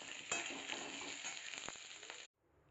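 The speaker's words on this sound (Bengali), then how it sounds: "পটল আলু দিয়ে তরকারি বানাবো, সেই জন্য আলুটা কষে নিলাম।" Potatoes sauté in oil in a pan with a steady close sizzle and light stirring, which cuts off abruptly near the end.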